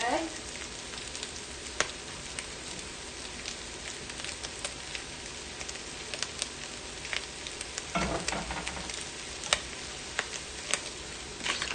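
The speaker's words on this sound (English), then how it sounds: "now we're going to add our scrambled egg" Scrambled egg goes into a pan of breakfast chowder with sausage and sizzles steadily, with soft crackling, a few utensil clicks and scraping stirs nearby, no talk over it.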